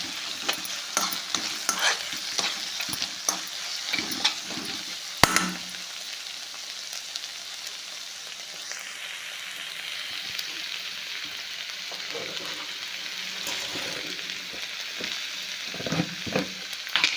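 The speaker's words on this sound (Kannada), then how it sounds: "ಟೊಮೆಟೊ ಸ್ವಲ್ಪ ಸಾಫ್ಟ್ ಆಗೋವರೆಗೂ ಬೇಯಿಸ್ಕೋಬೇಕು" Tomatoes sizzle and fry in a pan for a North Karnataka palya, a soft steady crackle with intermittent scraping stirs and a sharp clink partway through, no voices.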